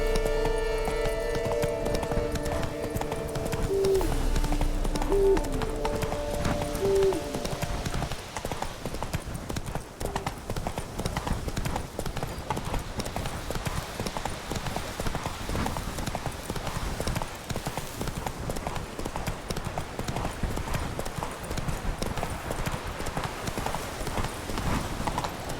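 Roach the horse gallops in The Witcher 3, steady clip-clop hoofbeats running continuously throughout, with a brief whinny early on and game music and ambience underneath.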